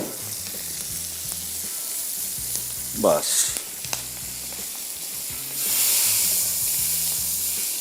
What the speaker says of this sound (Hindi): चलिए जी, ये तड़का हो गया तैयार अचारी का।